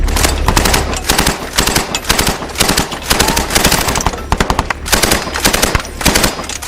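Heavy gunfire from Taliban positions in buildings near a wooded area in Afghanistan, loud and close, with dense rapid bursts of automatic fire and single cracks running continuously throughout.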